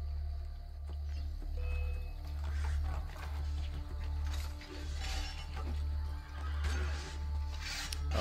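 A horse whinnies in the Assassin's Creed Brotherhood video game, heard over a steady low hum and background game sounds, with a few clip-clop hoof beats.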